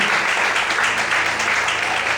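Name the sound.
more applause from the congregation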